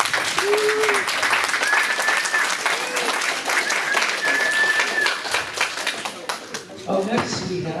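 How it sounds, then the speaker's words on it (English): Wedding reception guests give a loud, continuous round of applause, with cheers and a few whoops rising over the clapping before it thins near the end. "how about a round of applause for Chris?"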